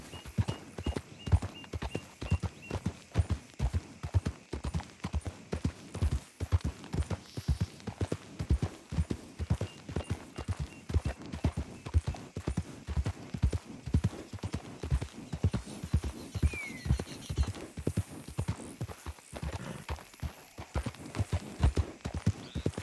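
Horse hooves clip-clop in Red Dead, a steady, rhythmic trot of evenly spaced hoof strikes that continues without pause, close and clear.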